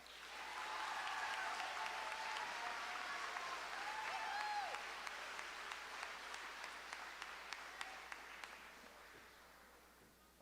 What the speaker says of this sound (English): How about a nice round of applause for our Dodd class of 2019?